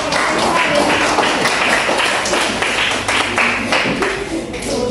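Applause for student presenters in a classroom: a scattered burst of hand clapping and taps that keeps going, then thins out toward the end.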